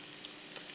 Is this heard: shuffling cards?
no